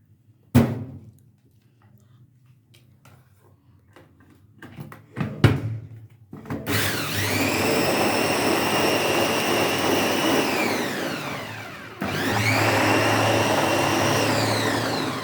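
An electric mixer beats cake batter of raw cocoa and oil, whirring loudly and steadily with a high motor whine, pausing briefly before starting again, after some quiet clinks and knocks in a kitchen.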